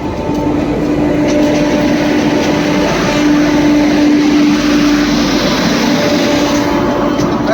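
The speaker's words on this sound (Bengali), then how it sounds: "আমরা এখন ট্রেন ধরছি গাইজ, এখন ট্রেন ধরে বাড়ি যাবো।" Passenger train running, a loud continuous rumble with a sustained tonal hum and faint clatter, heard close from on board or beside the track.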